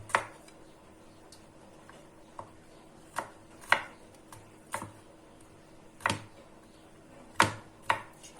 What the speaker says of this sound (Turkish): Diğer sarımsağımı da doğruyorum.